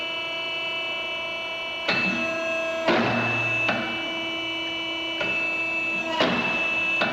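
An RCP 8511 A 5 automatic tube expanding unit forms a tube, giving sharp, loud mechanical strokes and clanks at irregular intervals over a steady background machine hum.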